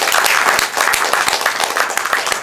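An audience at a Paris improv comedy festival show applauds, a dense, steady wash of many hands clapping loudly and close for the whole stretch.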